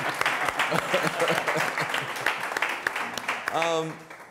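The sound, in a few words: audience applause for a panelist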